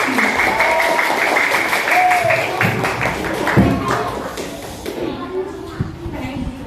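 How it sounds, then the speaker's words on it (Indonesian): Audience of a scouting storytelling contest clapping for a contestant called to the stage, a steady round of applause with thumps and a voice speaking over it, fading toward the end. "Tepuk tangan."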